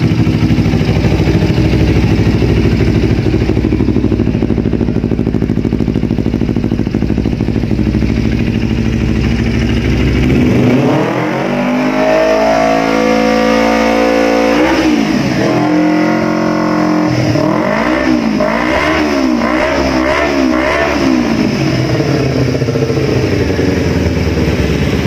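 A motorcycle with a stock engine idles with a steady close chug, then revs repeatedly, pitch climbing and falling in several surging bursts over a constant mechanical rumble.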